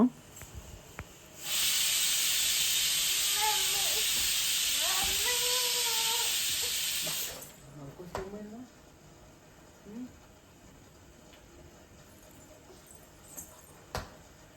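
A kitchen pressure cooker blows a loud, steady steam whistle lasting about six seconds, close by, then falls quiet; someone speaks softly underneath and afterward amid faint household clatter.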